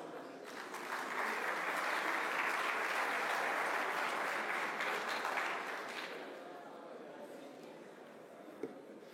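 An audience applauds a speaker being introduced at an event, a dense, steady burst of clapping that swells, holds for several seconds, then fades out gradually.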